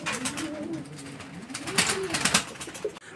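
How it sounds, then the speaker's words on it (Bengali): Pigeons coo repeatedly at a pigeon market, close and fairly clear, with overlapping throaty rolling calls and a faint rustle of other birds behind them. "আরো এক জোড়া কবুতরের কালেকশন রয়েছে, একটা ডিম সহ।"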